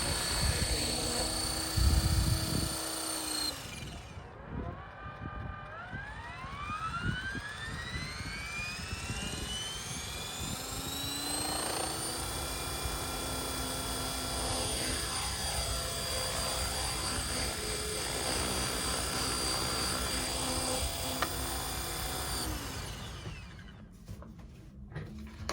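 A model Airwolf helicopter spools up and flies nearby, its whining turbine rising in pitch and holding a steady buzzing drone with rotor chop before winding down at the end.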